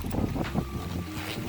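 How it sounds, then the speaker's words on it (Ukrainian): Strong wind by a river with drifting ice buffets the microphone in a steady low roar, with gusts rising and falling throughout; no voices. "Але дуже сильний вітер."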